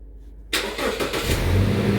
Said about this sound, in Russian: Все, тачка у нас завелась.